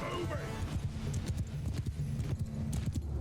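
Cavalry horses gallop in a Mount & Blade II: Bannerlord battle, a dense continuous drumming of many hooves with clattering and shouts, loud and close throughout.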